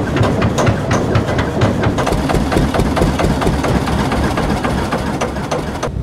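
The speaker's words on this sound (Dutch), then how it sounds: "Dat zijn motortjes van 80 jaar oud." An 80-year-old small engine on a pusher boat runs loud and close, a dense rumbling chug with a steady rapid knocking rhythm and no talk.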